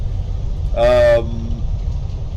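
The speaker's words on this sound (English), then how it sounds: "just put it on 2, just, you know, just allow the train to cruise" Steady low rumble of a Southeastern train cruising in Train Sim World 2, broken by one loud, short horn toot about a second in before the even running drone resumes.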